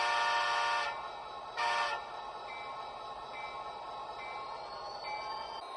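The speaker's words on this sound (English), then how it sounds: "We have now assembled a complete DCC-EX command station and are ready to run some trains." A DCC-EX controlled model train sounds its horn in two loud, sustained blasts, the first about a second long and the second shorter, followed by quieter running-sound hum and faint tonal whistles.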